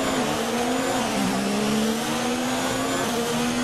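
F1 2019 race cars at Montreal: a steady, loud engine whine from a car pushing hard to overtake, with a second engine tone close by and faint tire noise throughout.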